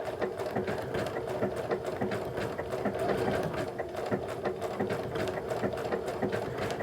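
A sewing machine stitches slowly around a fusible appliqué outline on a quilt, a steady close mechanical whir with fast rhythmic needle clatter running unbroken throughout, no voices over it.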